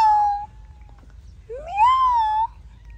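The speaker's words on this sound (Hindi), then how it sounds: "देखो बिल्ली बोल रही है म्याऊ" A cat meows twice on a farm: a short cry, a pause, then a longer rising and falling meow, close and clear over a low background hum.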